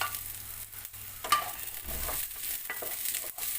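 Chopped green chili and capsicum sizzle steadily in a hot pan while a spoon stirs and scrapes now and then, a close, continuous frying hiss with occasional knocks.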